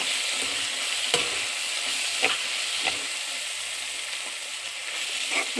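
Cabbage frying in a pan is stirred, a soft continuous sizzle broken by a few sharp spatula scrapes at irregular intervals.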